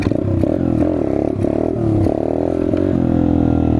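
A Chinese dirt bike engine revs loud and close during a wheelie attempt, the throttle rising and dropping in several surges over a constant rough drone.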